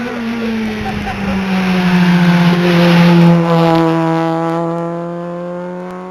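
Rally car engine at the 2011 OPC Monte Carlo Rally testing, revving hard and climbing steadily in pitch toward its limit, loud and close, before easing off as the note falls away.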